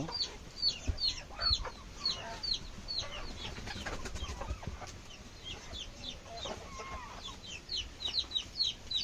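Chickens in a poultry farm shed on a cold, windy day, with frequent short clucks and chirps from many birds close by, layered over a steady rustle and hum inside the enclosed building.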